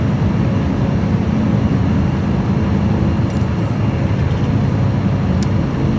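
Steady engine drone of a Savage Cub light airplane in flight in Microsoft Flight Simulator 2020, a continuous loud hum without a break.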